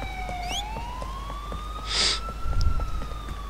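Fire engine sirens wail in Grand Theft Auto IV, a rising and falling tone sweeping across the scene, with a brief horn-like burst midway and vehicle rumble underneath.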